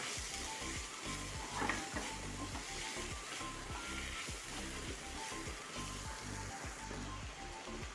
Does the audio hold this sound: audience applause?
no